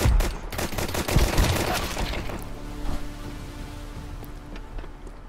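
Gunfire in Counter-Strike 2: a dense burst of sharp, loud shots in the first two seconds, then a fainter ringing tail with a few scattered distant pops.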